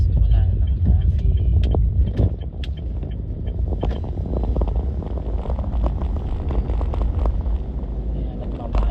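Cars passing on a busy road in Clark, heard as a steady rumble of motor traffic with wind buffeting the microphone and a voice talking over it.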